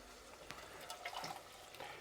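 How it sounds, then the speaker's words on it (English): Water splashes and trickles inside a tin can as it is rinsed, a soft, faint liquid sloshing with a few small drips and knocks. "Rinse the tin with a bit of water."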